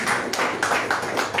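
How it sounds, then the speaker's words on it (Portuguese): Church congregation clapping hands in praise during a worship service, a short burst of rhythmic claps at a moderate distance with no speech over it. "Vamos dar uma salva de palmas para Cristo Jesus."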